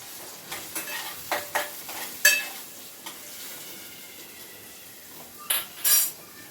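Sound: stirring chopped onions and green chillies in a pan

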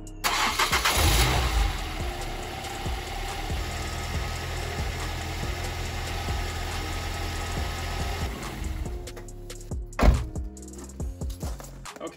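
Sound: Ford Fiesta ST150 engine starting

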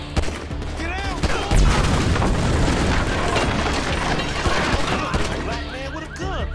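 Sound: gunfire in video game GTA V

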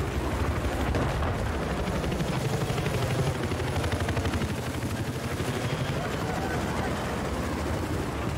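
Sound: helicopter in the video game Battlefield 4

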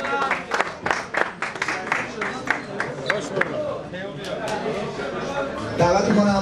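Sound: audience applauding after fight ends

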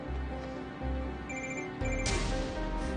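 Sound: telephone ringing

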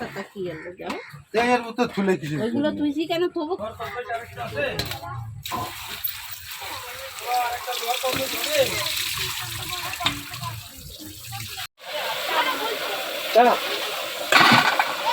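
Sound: washing with running water

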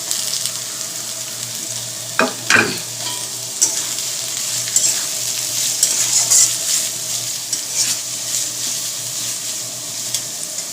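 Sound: frying mixed vegetables in a pan

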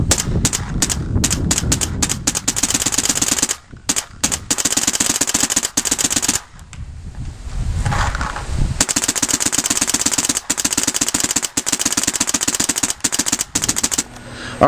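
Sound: WGP Autococker paintball marker shooting

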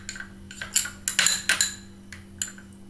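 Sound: slime being mixed in a bowl

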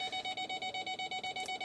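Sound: Ford F150 parking sensors beeping near a pole

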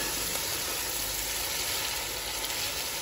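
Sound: spices with fennel and cumin frying in a pan

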